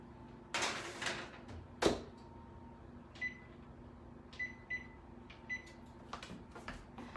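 A kitchen oven set to 400 degrees is readied for Christmas baking: a few sharp clunks and knocks of the oven door and handling, followed by short electronic beeps, in an otherwise quiet room.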